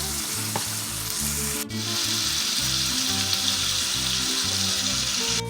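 Ground beef sizzles steadily in a hot pan while being stirred, a continuous close frying hiss with periodic scraping and clunking of the utensil against the pan, one sharp knock partway through.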